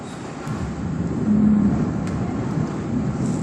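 Steady broadband wash of cars passing along a rain-soaked road during a storm in Mohayil, Saudi Arabia, with a constant rushing hiss and a slight swell midway.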